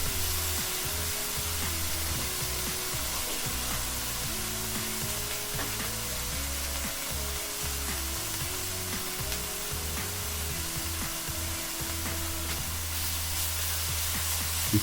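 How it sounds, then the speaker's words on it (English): Chopped garlic sizzles steadily in a cast iron skillet, a continuous bright frying hiss with a low hum underneath throughout. "We're just going to cook this garlic for about a minute"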